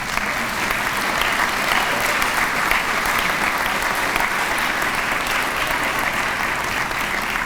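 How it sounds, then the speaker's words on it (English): A university convocation audience at Morehead State University gives steady, dense applause that fills the hall at an even level from start to finish, with no voices standing out. "Give them a round as well."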